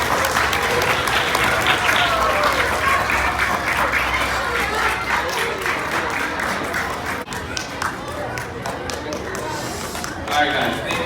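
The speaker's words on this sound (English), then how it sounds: "Can we have a round of applause for our volunteers?" A crowd at a model rocketry and space club meeting applauds its volunteers with sustained, lively clapping that fills the room, fairly loud and close, with scattered voices mixed in and a brief dip partway through.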